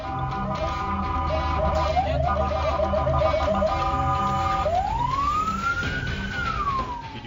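A fire engine in West Java speeds toward a fire, its siren blaring loudly with a rapid warbling pattern, then a long rising and falling wail, over steady traffic and engine noise.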